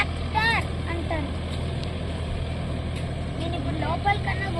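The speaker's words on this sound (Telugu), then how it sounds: "దీన్ని ఆటోమేటిక్ ట్రాక్టర్ అంటారు." An automatic tractor on an agricultural campus runs with a low, steady engine rumble that continues under a person talking nearby.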